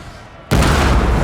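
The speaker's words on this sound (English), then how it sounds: "It's only one cannon seemingly that's firing." A cannon fires in a Total War battle set in the Thirty Years' War, landing as one sudden loud boom after quiet and then a sustained, roaring rumble that fills the rest of the moment.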